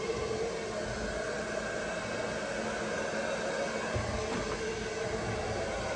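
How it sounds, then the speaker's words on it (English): A hair dryer blows in a steady, even whooshing roar, constant throughout, with no talking. "Here comes the hairdryer."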